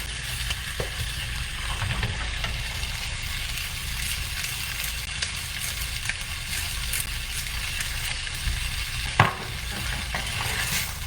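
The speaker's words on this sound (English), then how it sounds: "Give it one more stir." A squash and orzo mixture is stirred in a pan over a steady, close frying sizzle, with occasional soft scraping and one brief clack near the end.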